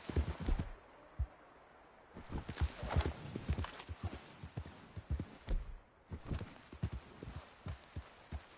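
Horse hooves clip-clopping in Red Dead Redemption 2, a quick, uneven gallop-like run of hoofbeats broken by two short pauses, fairly close and clean.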